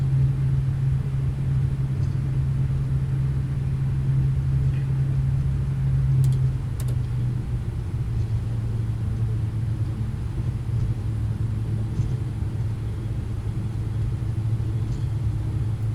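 A Boeing 777 taxis out toward runway 25 center for departure, heard as a steady, fairly loud low engine rumble with a constant droning hum that eases slightly partway through, with no talking.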